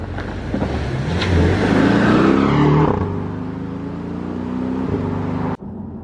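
A Porsche 718 Boxster GTS sports car engine revs up hard, climbing in pitch before easing back to a steadier drone, then cutting off abruptly near the end.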